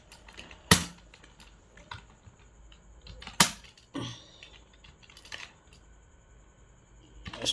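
Someone types on a computer keyboard in Microsoft Word, producing sparse, close, crisp key clicks with a few louder strikes and gaps between them.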